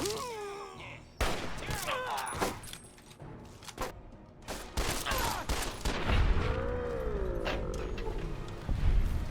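Gunfire in the Fallout game, Tale of Two Wastelands mod, rings out in a loud, dense fusillade of shots spread across the scene, with groaning and clatter mixed in among the bursts.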